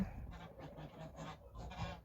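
Several geese honk loudly and repeatedly nearby, overlapping harsh calls coming in quick, uneven bursts with no pauses.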